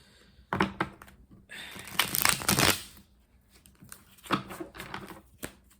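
Tarot cards being shuffled by hand, several quick riffling bursts and crisp card slaps in an irregular rhythm with short quiet pauses between, close and fairly loud.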